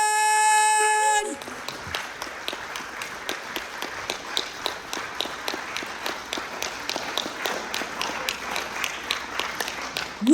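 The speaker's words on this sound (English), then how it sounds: "Give a massive round of applause for Madison!" A talent show audience claps steadily for a contestant after a brief musical sting, the applause moderately loud and sustained with scattered individual claps standing out throughout.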